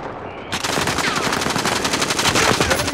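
Sustained automatic gunfire from a rooftop in Call of Duty: Modern Warfare bursts in loud and close after a short quiet start, then rattles on in rapid, dense volleys.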